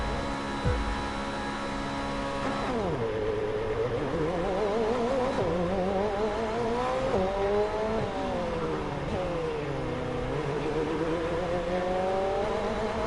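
A Formula 1 race car engine from the F1 23 video game screams through continuous gear shifts, the pitch climbing and dropping over and over as the car accelerates and brakes, loud and steady with no voices.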